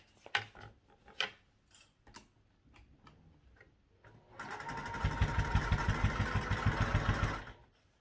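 A sewing machine topstitches a backpack seam: a few scattered light clicks, then a steady rapid mechanical run for about three seconds that stops abruptly, close and fairly loud.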